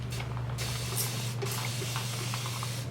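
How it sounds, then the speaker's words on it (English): Two quick hissing bursts from a water spray bottle onto a wig, close by, with a short pause between them, over a steady low electrical hum. "You're gonna spray it right on the part."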